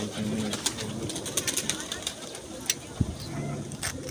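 Soft pigeon coos sound at a distance, with clicks and light bumps and occasional rustling, while people talk nearby.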